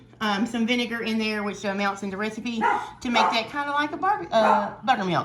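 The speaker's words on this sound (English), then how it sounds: "that's my dog saying he wants to help" A dog barks in a home kitchen during chicken-and-cornbread cooking, giving a series of close yips and barks mixed under a person's steady talking.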